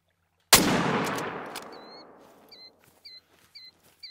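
A single loud hunting rifle shot rings out in The Hunter: Call of the Wild, a sharp crack followed by a long fading echo across open terrain, then faint bird chirps repeating in the distance.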